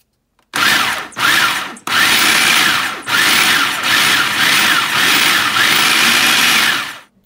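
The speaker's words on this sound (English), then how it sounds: "put it in my mixer and get it blended up" A kitchen mixer blends cooked bacon jam in loud, steady whirring bursts: two short pulses, then a long continuous run with slight changes in pitch. No one speaks over it.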